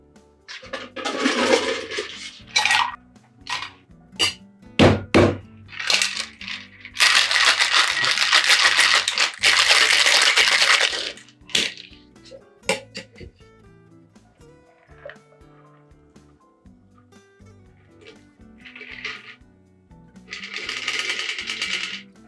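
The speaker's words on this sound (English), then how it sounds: "put some ice in this, shake it, chill it, and enjoy our drink" A lemon drop cocktail shaken with ice in a shaker, loud rattling bursts of ice knocking inside the tin, with sustained vigorous shaking stretches broken by pauses and scattered clinks, close and without voices.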